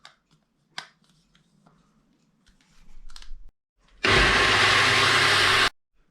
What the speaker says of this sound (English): So I'll put the top on the blender.